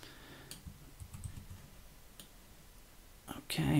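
Light computer mouse clicks and keyboard taps while copying and arranging objects in Cinema 4D r15, soft scattered clicks over quiet room tone, a louder cluster of taps at the end.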